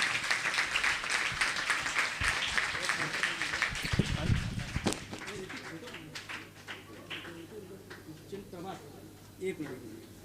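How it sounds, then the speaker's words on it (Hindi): Crowd applause at a Bhagavat katha religious gathering, loud clapping for several seconds that breaks off into talk and lighter scattered claps. "तालियां जोरदार होनी चाहिए।"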